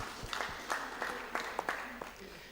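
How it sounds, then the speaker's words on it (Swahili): Scattered clapping breaks out among a congregation at a Kikuyu youth Sunday church service, uneven hand claps mixed with voices, fairly faint and loose rather than a full ovation. "Hũrĩreni makofi"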